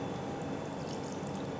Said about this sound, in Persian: آب لیمو داریم بهش اضافه می‌کنم